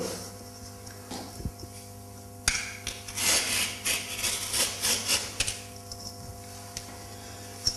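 A knife cuts through wallpaper with the blade held flat, giving a few light taps followed by a steady close scraping rasp for several seconds, then quiet again; no speech.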